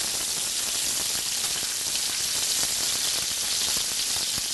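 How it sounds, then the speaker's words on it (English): Scallops searing in a hot pan give a loud, steady, close hiss and crackle of frying, with dense fine spatter throughout and no talk. "I love properly seared scallops"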